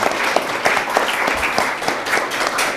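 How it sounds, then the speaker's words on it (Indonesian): An audience claps steadily in a hall at a community cultural gathering honouring a guest, a dense, even patter of many hands at moderate loudness with no voices over it. "Ya, tepuk tangan dulu untuk beliau."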